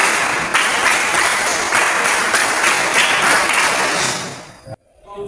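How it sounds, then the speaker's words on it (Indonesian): Students doing a Pramuka scout clap in a classroom, loud, dense clapping sustained for several seconds with faint accented beats, cutting off abruptly at the end. "Tepuk pramuka."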